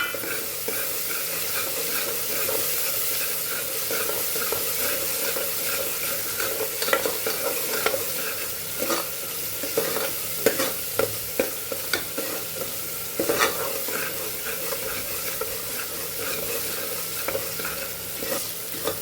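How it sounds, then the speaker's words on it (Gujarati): Tomato and masala sautéing in an oiled pan for a Gujarati guvar (cluster bean) gravy curry, a steady close sizzle with repeated scraping stir strokes and clinks throughout, no talking. "ટમેટું પણ અહીંયા ઉમેરી અને એને પણ સાતળી લેવાનું છે"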